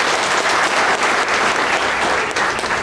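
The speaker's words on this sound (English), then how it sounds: "A big round of applause, please." A crowd claps steadily, a dense wash of applause at full volume with no voices on top.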